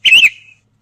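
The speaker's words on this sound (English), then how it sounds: "Even my phone fancies me, it's whistling at me." A phone notification plays a short rising-and-falling whistle tone, a single bright chirp lasting about half a second, close and clear with no talk over it.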